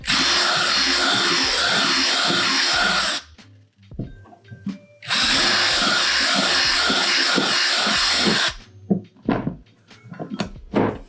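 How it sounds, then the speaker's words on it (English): A power drill whines loudly in two long bursts of about three seconds each while enlarging holes, separated and followed by clunks and knocks of handling. "shouldn't talk over the drill"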